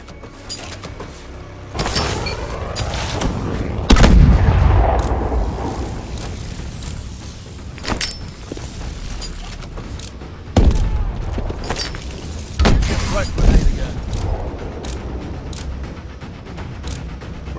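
Grenade explosions and gunfire in Call of Duty: Advanced Warfare during grenade training, with several heavy booms spaced through a busy mix of sharp gunshot cracks and rumbling game effects.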